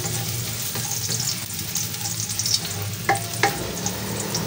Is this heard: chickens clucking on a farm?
no